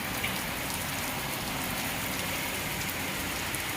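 Torrential rain falls without letup, a thick, loud wash of drops striking surfaces nearby, steady throughout with no talking.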